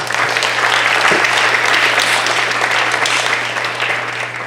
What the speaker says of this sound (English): Let's give a huge round of applause and recognize our amazing students.